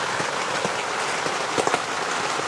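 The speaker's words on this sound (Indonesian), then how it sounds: "Masih hujan." Rain falls steadily during a mountain hike on Gunung Cikuray, a dense hiss of drops with scattered louder patters striking nearby surfaces, close and continuous with no talking.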